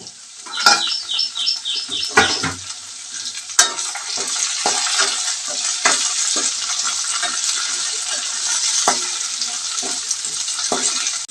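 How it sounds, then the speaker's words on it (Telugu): Tomatoes and coriander seeds fry in a pan for a village-style bottle gourd chutney, giving a steady bright sizzle throughout, with a few clinks and stirring knocks near the start. "అలాగే కొంచెం ధనియాలు కూడా వేస్తున్నానండి టమాటాలు వేస్తున్నానండి"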